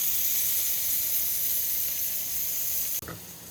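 Filet mignon searing in a hot pan gives a steady loud sizzle and hiss, then a sudden clatter and a fresh burst of sizzling as the steak is flipped.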